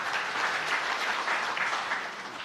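A church congregation applauds during a sermon, a dense continuous roar of many hands clapping, fairly loud and even throughout, with no talking over it.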